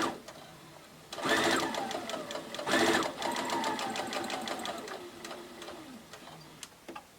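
A sewing machine joins two quilt pieces with a quarter-inch seam in two short bursts of rapid stitching, then a longer steady run that slows and stops, close by and clear over a quiet room.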